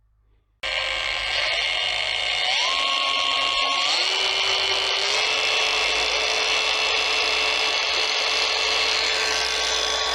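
A Yato YT-82829 cordless angle grinder starts abruptly and whines at high speed, its pitch stepping up twice before holding a steady, loud grinding drone.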